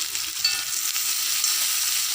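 Koorka pieces sauté in a hot pan with garlic, ginger and green chili, giving a continuous bright sizzle and crackle with a few stirring scrapes, close and steady with no talking.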